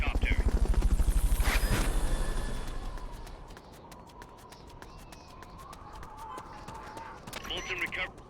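A helicopter thumps loudly with a rapid rotor pulse during a Fulton recovery in the video game Peace Walker, fading after a few seconds under footsteps, gunfire-like clatter and spoken radio talk.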